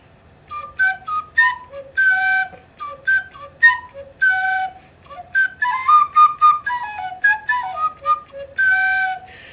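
A shrill, thin cheap plastic Dollar Tree recorder plays a quick run of breathy, slightly wavering notes in a bouncy rhythm, close and fairly clear.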